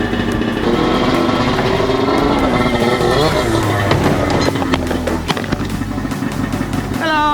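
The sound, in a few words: snowmobile driven onto a trailer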